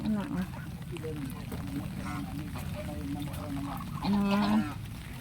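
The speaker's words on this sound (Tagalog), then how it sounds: "pato at ganso" Ducks and geese quack and honk in a noisy outdoor flock on a typhoon-flooded farm fishpond, with a loud honk near the end over constant background chatter and rustling.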